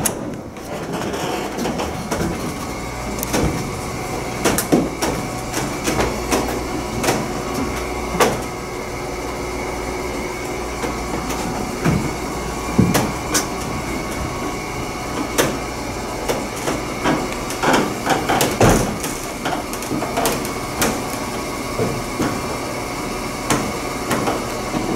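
A vintage car elevator lifting a pickup truck, with a steady mechanical rumble broken by repeated loud clanks and knocks from the lift machinery, close by.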